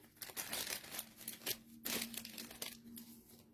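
A cardboard box crumples and collapses with a run of close, crackling, crinkling bursts at low overall volume.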